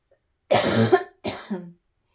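Two close, harsh coughs, the first longer and rougher, the second shorter, separated by a brief pause in otherwise quiet surroundings.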